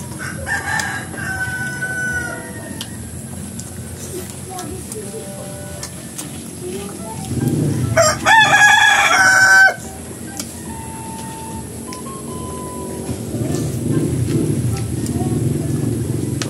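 Rooster crowing loudly at a home in the Philippines, one clear crow in the middle rising over steady background noise, with people talking around it.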